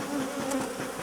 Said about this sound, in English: the bees are bothering you, your microphone, so I apologise if it starts getting more buzzy than usual